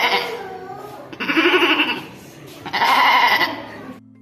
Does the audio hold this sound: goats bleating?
yes